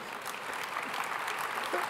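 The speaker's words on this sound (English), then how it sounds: "I notice not everybody is clapping" Audience applause after a remark about a presidential candidate during a talk with Mark Cuban and AT&T's Lurie, a steady wash of clapping that sounds partial rather than full-house, continuous and moderately loud with no voices over it.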